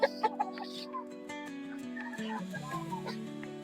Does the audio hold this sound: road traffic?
no